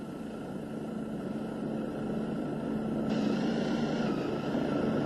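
Helicopter landing on the deck of a CEPSA oil tanker at sea, a steady loud rotor and engine drone with a constant tonal whine that grows slightly louder toward the end, no voices.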